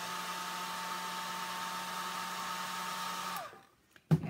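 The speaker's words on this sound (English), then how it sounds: "And the hair dryer." A hair dryer blows steadily with a whirring hum as it dries an alcohol ink painting of a chicken, running loud and close for over three seconds before switching off, followed by a brief knock.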